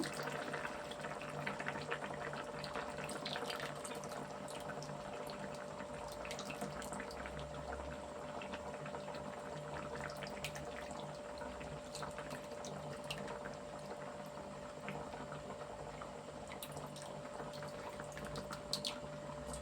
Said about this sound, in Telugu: సింగిల్లో పులుసు పోతున్నాను